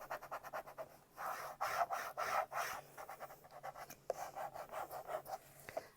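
Hand rubbing down a gold vinyl transfer onto a binder, a quiet series of close, rhythmic scratchy rubbing strokes with short pauses between bursts.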